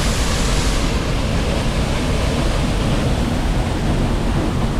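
A waterfall at the Rotorua hot springs roars as a loud, steady broadband rush of falling water, close and unbroken, with no voices over it.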